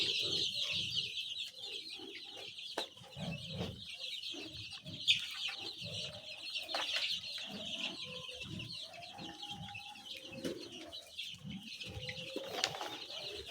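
Chicks cluck and peep in a brooder, with soft, close, irregular calls, faint shuffling and a steady background hiss.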